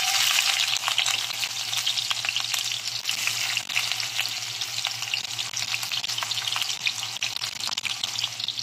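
Chopped onions frying in a pan for lamb kaldereta, a steady close crackling sizzle with bright spattering that continues without a break and with no talk.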